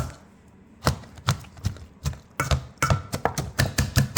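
Cauliflower being mashed by hand, a series of soft, moist thumps and squelches that begin sparse and grow quicker and more regular toward the end, close and fairly quiet, with no talking.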